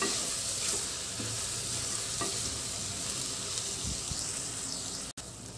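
Onions and ginger-garlic paste frying in a pan for an Andhra-style mutton curry, giving a steady close sizzle with scraping stirs throughout and a brief dropout near the end.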